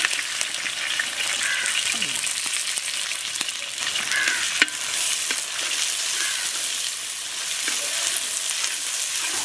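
Chopped onions frying in oil for chicken biryani cooked in bamboo, a steady dense sizzle with occasional soft crackles and pops, close and continuous throughout.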